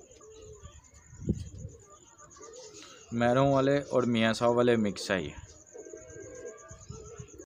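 Teddy pigeons coo softly in a low murmur, while someone talks loudly close by over them.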